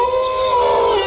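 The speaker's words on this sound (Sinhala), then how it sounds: "බල්ලොත් බුරන බා." A dog gives one sustained, wavering howl, loud and close, with no barks standing out in the brief moment.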